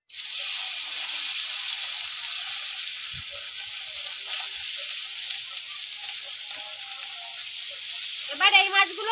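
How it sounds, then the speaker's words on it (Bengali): Small gang mourola fish frying in oil in a pan on a village clay stove, a loud continuous sizzle throughout, with a brief voice near the end. "এবার এই মাছগুলো একইভাবে ভেজে নেবো"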